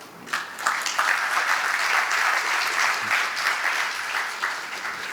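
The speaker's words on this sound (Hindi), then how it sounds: "ताली भी तभी बजाइएगा जब बात समझ आई हो" An audience at a spiritual discourse breaks into applause, a dense sustained wash of clapping that rises quickly and holds steady at a loud level.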